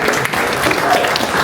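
A short, close burst of applause from a town hall audience in West Covina welcoming an acting deputy public works director, steady clapping with some voices underneath.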